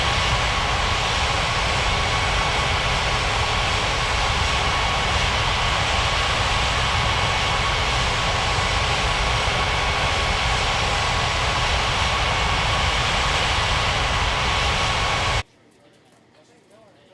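An Air India jet airliner roars down runway 35 right for takeoff in a 3D flight game. A loud, steady broadband engine rush holds for about fifteen seconds, then cuts off abruptly to near silence.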